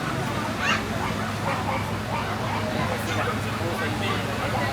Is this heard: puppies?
yes